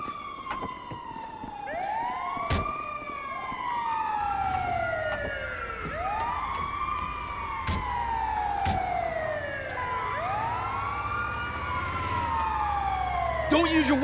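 A wailing ambulance siren in GTA V sweeps up and down in steady repeated cycles, loud and continuous, with engine rumble underneath and a few sharp clicks along the way.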